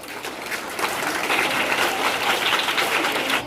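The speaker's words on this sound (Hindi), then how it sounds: "इनको इनाम जो मिलेगा उसके उपलक्ष्य में एक बार जोरदार ताली लगा दें।" Loud, sustained applause from a school crowd cheering a prize winner, dense clapping that holds steady throughout without voices.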